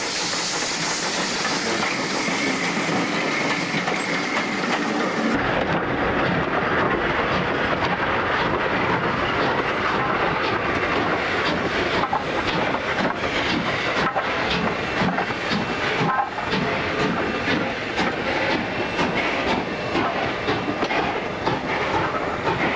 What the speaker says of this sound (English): 5912 shunts the dairy branch at Taree in January